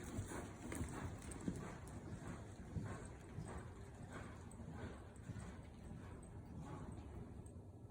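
Horse hooves loping around an arena, a steady rolling clip-clop of soft footfalls on arena footing under a constant wash of wind noise, moderately close and fairly quiet.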